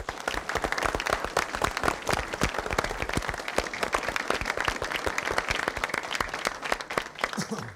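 Studio audience applauding on an Indonesian TV comedy quiz show, a dense, steady wash of many hands clapping that holds loud and continuous throughout, with no talk over it.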